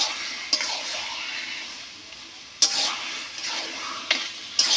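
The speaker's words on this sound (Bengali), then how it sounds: "এইভাবে অনবরত নাড়তে নাড়তে একদম শুকিয়ে আসবে।" Taro leaves fry in a pan with hiss and crackle as a utensil stirs them, with several sharp scraping strokes standing out against the steady sizzle, close and fairly quiet.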